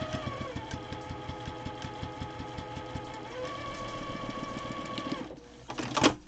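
A foot-pedal sewing machine quilting fabric runs in rapid, evenly spaced stitching pulses, close and steady, then stops abruptly near the end, followed by a brief clatter.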